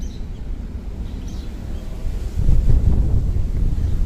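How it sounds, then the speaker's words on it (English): Wind buffets the microphone on an outdoor city walk from Meguro River to Shibuya in Tokyo, a steady low rumble that swells louder about halfway through, with no talking. "Ooh, windy."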